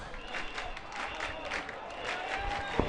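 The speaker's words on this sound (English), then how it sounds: "Big cheer from the Dale supporters." Dale College supporters at a schoolboy first-team rugby match cheer and clap from the stands as their side runs onto the field, a broad crowd roar heard from a distance with a sharp knock near the end.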